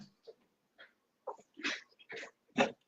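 A female dog stirs indoors, letting out short snuffs, whimpers and sneeze-like huffs in a few separate bursts, close and fairly quiet, as she waits to be let outside.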